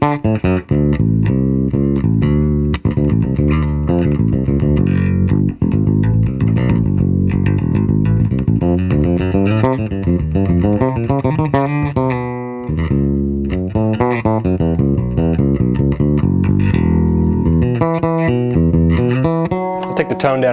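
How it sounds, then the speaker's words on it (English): A bass guitar strung with Hellborg Signature DR strings plays on the bridge pickup with the tone knob up. A steady run of bright, punchy notes carries on without a break for about twenty seconds, loud and close, with no talking. "I'll get kind of a bridge pickup-y sound with the tone still up."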